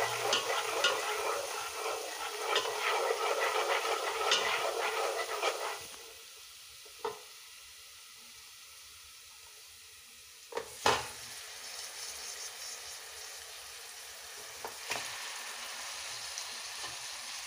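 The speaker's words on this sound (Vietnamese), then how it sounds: "Chiên sơ trước." Fish sizzles as it fries in a pot for a kimchi fish hotpot, loud crackling at first that drops to a quieter hiss, broken by a few sharp knocks of a utensil against the pot.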